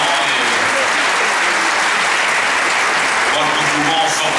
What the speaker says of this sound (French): nous pouvons fortement les applaudir, les représentants de l'opposition syrienne.